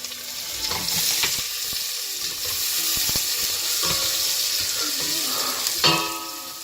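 Carrots stirred into fish soup in a pot, a steady simmering hiss with scattered clinks and scrapes of stirring, close, and a louder knock near the end.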